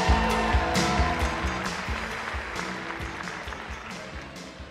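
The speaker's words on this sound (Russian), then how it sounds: "сегодня принимайте заслуженное внимание и аплодисменты!" Applause from an audience at a large youth forum open lesson, steady broadband clapping that gradually fades, with faint voices underneath.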